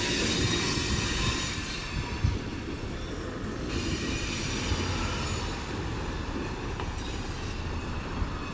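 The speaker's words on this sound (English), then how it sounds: "they're gonna come back across and get their train." Kiamichi Railroad train rolling slowly through a switching move, wheels squealing on the rails. A continuous rumbling clatter with shrill metallic squeals on top, steady and fairly close, with no talking.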